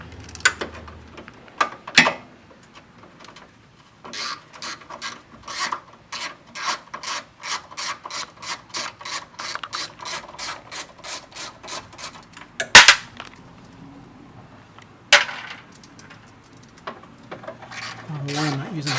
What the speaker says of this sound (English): there's a few 10 millimeter bolts, 4 that looks like to be exact, that we're just going to take out